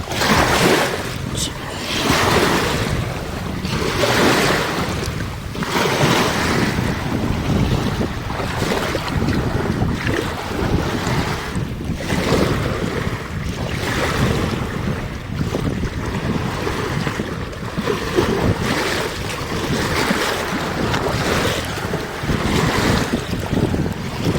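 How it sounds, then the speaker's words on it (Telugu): Strong wind roars and buffets the microphone continuously while water splashes and surges nearby during bottle fishing for tilapia. The sound is loud and steady throughout, with no talking. "గాలి సౌండ్ అయితే ఫుల్ వస్తుంది."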